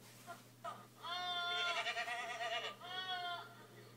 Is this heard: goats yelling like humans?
yes